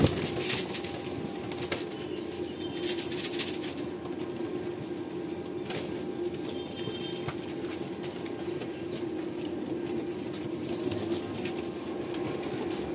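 A male Andhra Lalsira pigeon is released at a loft in Kolkata, its wings flapping in sharp bursts amid other pigeons' fluttering and soft cooing, over a steady outdoor background.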